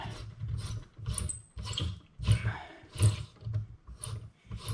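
Bolting and unbolting a tow hook on a Cobra Daytona produces a series of close, rhythmic mechanical clicks and rattles, like a hand ratchet being worked in short repeated strokes, with no talking.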